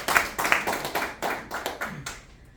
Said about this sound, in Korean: 지금 이 시점에서 박수 좀 한번 쳐주세요.